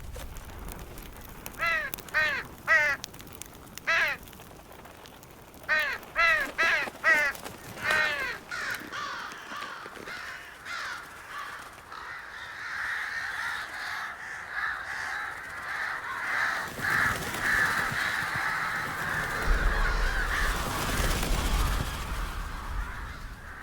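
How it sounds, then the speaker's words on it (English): Several crows caw in bursts of repeated harsh calls within The Witcher 3 video game, clustered near the start and then thinning, over a steady ambient bed that swells toward the end. "Well, the crows didn't swarm me"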